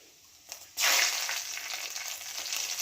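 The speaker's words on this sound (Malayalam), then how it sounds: "ഇഞ്ചിയുടെ കൂട്ടത്തിൽ നമുക്ക് പച്ചമുളക് ഇട്ട് കൊടുക്കാം" Green chilies hitting hot oil with frying ginger in a pan, a sudden loud sizzle that bursts up and keeps crackling steadily, close and alone.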